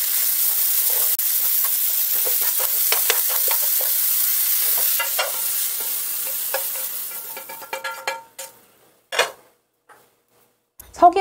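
Shiitake and shimeji mushrooms with beef stir-fried in a pan for Korean gujeolpan: steady close sizzling with stirring scrapes and clinks of utensil on pan, fading to sparse clatters near the end.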